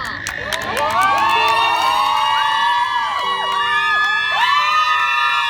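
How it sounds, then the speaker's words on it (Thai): A large crowd screams and cheers loudly and continuously at a fan meet-and-greet, with high-pitched shrieks rising over the roar throughout. "ใครมีเสียงกรี๊ดเตรียมเสียงกรี๊ดนะคะ"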